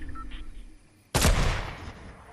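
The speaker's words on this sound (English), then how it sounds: "I'm gonna snipe this guy" A single loud sniper rifle shot in the battle royale game Fortnite, a sharp sudden crack with a trailing echo that decays over about a second, after a stretch of quieter game ambience.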